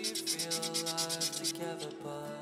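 Sandpaper of 240 grit rubs back and forth over the edges of a watercolor paper pendant in quick rhythmic strokes, close and steady, with a tonal hum underneath.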